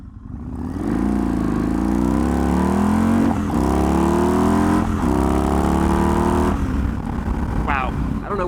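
A Yamaha MT-01 1700cc V-twin motorcycle pulls hard from a standstill, its deep throbbing engine climbing loudly in pitch through several gear shifts, close and continuous, then easing off at the end.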